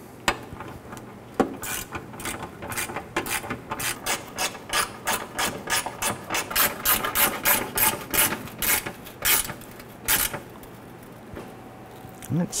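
A ratchet tightens fuse block bracket bolts on the fender of a 1997–2006 Jeep Wrangler, giving a close run of sharp, rhythmic clicks in steady strokes that quicken in the middle before stopping. No voice is heard.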